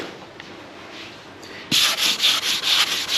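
Sanding marks out of a truck cab sun visor on an ERF Cummins restoration: after a quiet start, a close, loud burst of rhythmic back-and-forth abrasive rubbing strokes, about six in quick succession.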